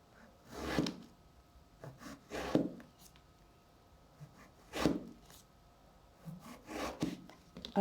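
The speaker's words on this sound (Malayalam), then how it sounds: "അതിനുശേഷം നമുക്ക് വളരെ നേർത്ത കഷ്ണങ്ങളാക്കിയിട്ട് ഇതിനെ ഇങ്ങനെ കട്ട് ചെയ്തെടുക്കാം." A knife cuts brinjal (eggplant) into thin pieces, giving soft, separate scraping strokes at an uneven pace, close and fairly quiet, with no talking.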